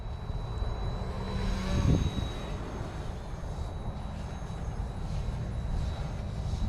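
Align T-15 RC helicopter in regular self-leveled flight, a steady whining rotor and motor drone at moderate distance, continuous with no talk, with a faint high tone running throughout.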